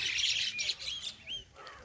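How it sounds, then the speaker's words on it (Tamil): Birds chirp on a misty Kodaikanal morning: several quick, high tweets and short trills in a brief cluster, moderately close against a quiet background. "அந்த பேர்ட்ஸ் அந்த சவுண்டு எல்லாமே ரொம்ப சிறப்பாக இருக்கு"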